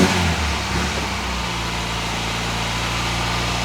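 A Ford car with 129,308 miles runs on choke after its first start following a revival, the engine revving briefly and then holding a loud, steady, close-up idle with no talk.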